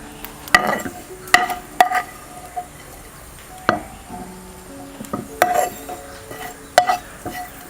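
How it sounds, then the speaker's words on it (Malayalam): Fried ginger is transferred into a bowl while making chammanthi, with sharp clinks and scrapes of a utensil on metal at irregular intervals and faint frying in the background. "ഇനി നമുക്കിതൊരു ബൗളിലേക്ക് മാറ്റാം."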